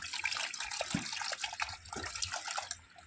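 Pesticide liquid poured into a bucket in a paddy field setting, a faint, close splashing trickle with small drips and gurgles.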